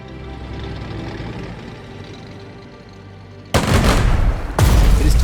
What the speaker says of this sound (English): Select the tank and finish off the enemy unit.